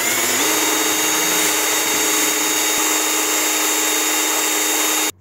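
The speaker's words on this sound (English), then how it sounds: "I attach the wheel to a rotary drill piece and then just run it over some sandpaper." A rotary drill spins loudly and continuously as a plastic model tank wheel is run against sandpaper, giving a steady high whine with gritty sanding noise that cuts off abruptly at the end.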